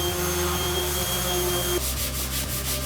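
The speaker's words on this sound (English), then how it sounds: "I'm going to come back out with the belt sander and give that one more good sanding down" A belt sander grinds steadily across the wood of a Tele-style acoustic-electric guitar body, a loud continuous motor drone with abrasive hiss, shifting into a rougher, pulsing rasp partway through.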